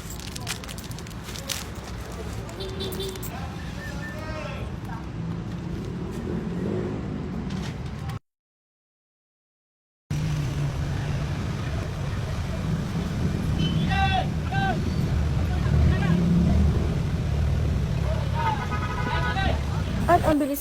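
A jeepney carries passengers along the road with a steady engine rumble and road noise, scattered chatter around, and a brief total dropout midway.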